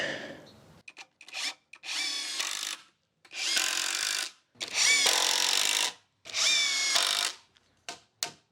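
A power drill drives screws into the wooden frame of a shed's front porch step in several separate bursts of whirring, each a second or two long, with short quiet gaps between them.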